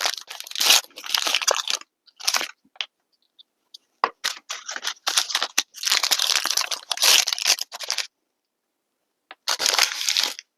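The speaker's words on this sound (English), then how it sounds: "Let's get into all these packages." Toy packages from MGA's Miniverse Make It Mini Potions are torn open and unwrapped in bursts of close, loud crinkling and crunching plastic and paper, separated by short pauses.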